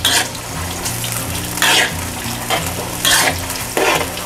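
Pork sizzles loudly in a pan as it fries over medium heat, with regular bursts of scraping and stirring about every second.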